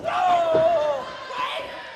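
Wrestling crowd cheering and yelling at a televised event, a brief swell of voices and a shrill cry that fades after about a second, with a smaller burst of shouting following.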